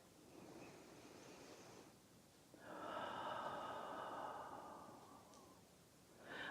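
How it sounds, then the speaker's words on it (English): A church congregation breathes in together, a soft collective inhale that swells into a broad, hushed breathy rush for a few seconds before fading, quiet and diffuse in a large room. "Let's take a breath."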